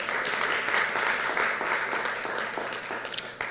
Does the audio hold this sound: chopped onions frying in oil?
no